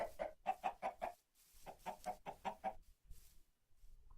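Chickens cluck in the Minecraft modpack Arcane Revolution, two quick runs of rhythmic clucks separated by a short pause, fairly close and clear.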